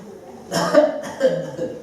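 A single cough, fairly close, with a short second burst after it, over light room noise.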